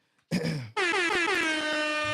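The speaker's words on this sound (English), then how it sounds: "Can y'all hear the air horns out there?" A loud air horn blasts nearby, first a short burst, then a long sustained blare.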